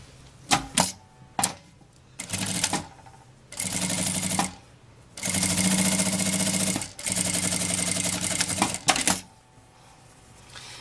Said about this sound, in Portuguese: vou passar uma costurinha aqui de meio pé de máquina